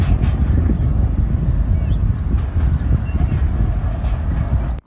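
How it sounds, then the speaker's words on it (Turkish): Tornado winds roar beside a road near a factory, making a dense, constant low-frequency rumble and buffeting against the microphone, loud and unbroken throughout with no clear voices. "yol kenarında hortum etkili oldu"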